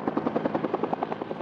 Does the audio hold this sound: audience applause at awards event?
no